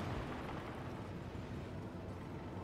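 Nuclear strikes in Hearts of Iron IV with the Millennium Dawn mod make a continuous dense rumbling roar of explosions, broad and steady with no talk, filling the short stretch.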